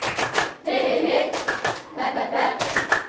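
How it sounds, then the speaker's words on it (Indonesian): Sixth-grade classroom clapping in a rhythmic pattern, bursts of hand claps in short groups with brief pauses between, fairly close and loud, with children's voices mixed in. "Kita berikan tepuk tangan untuk Bapak"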